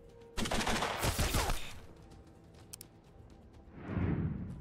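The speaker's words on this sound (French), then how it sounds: "Il tire, bon." Enemy gunfire rattles in the tactical video game Mutant Year Zero, a loud, dense burst of automatic shots lasting about a second, followed by a couple of faint cracks and then a rising rumble.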